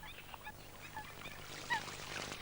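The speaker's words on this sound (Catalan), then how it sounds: "El cullerot és un ànec que cria al centre d'Europa i passa l'hivern al fondó." Northern shoveler duck calling at a wetland reserve, a few short nasal quacks and honks at low level against faint outdoor background noise.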